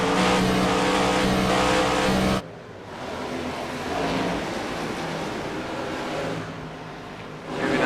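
Race cars in a pack on an oval track: a loud engine roar that cuts off abruptly, then a lower, more distant drone of several cars that swells again toward the end, with no talk.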